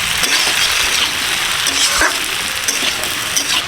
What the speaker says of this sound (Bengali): আলু ফুলকপি ভালো করে ভেজে নিয়েছি